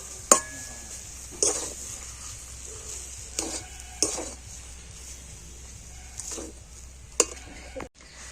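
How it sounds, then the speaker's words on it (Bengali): Spoon stirring pitha filling in a pan after chopped coriander goes in, a series of scraping clinks and brief sizzles spaced every second or so, close and moderately loud with no talk. "তো ধনেপাতা দিয়ে আবার একটু সবকিছু ভালো করে মিশিয়ে নেব।"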